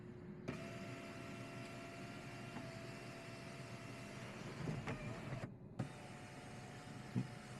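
Motorized moonroof and rear sunshade of a 2024 Alfa Romeo Stelvio Ti closing with one button, a faint steady electric motor whir inside the cabin, stopping briefly near the end with a soft clunk as the panels seat.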